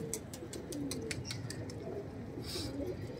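Rajasthani Lalsar pigeons with black tails in a Mumbai loft, giving low soft coos over a steady background hum, with scattered light clicks and rustles close by and no talking.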